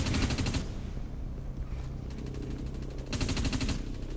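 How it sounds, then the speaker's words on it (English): Assault scrambler rifle fire in the PS3 shooter DUST 514 comes as rapid, close bursts at the start and again near the end, with a quieter rumbling battlefield lull between them and no talking. "What gun was he? Assault scrambler rifle. That sounds new."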